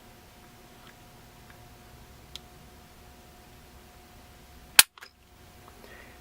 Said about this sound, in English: We're going to check trigger pull weight with the Lyman trigger gauge.